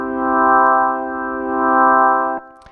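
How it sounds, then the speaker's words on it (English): A sustained Hammond organ chord on a Yamaha CK keyboard with the Leslie effect set to low. The loud, steady tone swells gently before cutting off near the end. "she typically recommends turning on the Leslie, leaving it on low. So that's going to be a sound like this."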